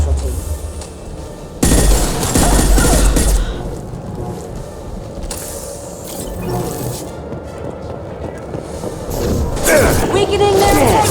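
Gunfire in the video game Mass Effect 2, loud bursts of shots and impacts with whooshes and booms, dense and continuous under and around game voices speaking.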